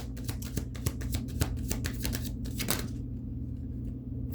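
A deck of tarot cards is shuffled close up in rapid bursts of crisp riffling snaps lasting a few seconds, then stops, leaving quiet room tone.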